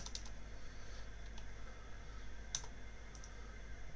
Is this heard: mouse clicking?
yes